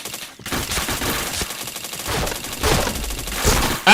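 Rapid bursts of gunfire from a shooting video game rattle close and loud, with dense strings of shots running almost without pause and a few heavier volleys swelling toward the end.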